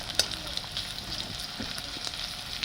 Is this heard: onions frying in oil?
yes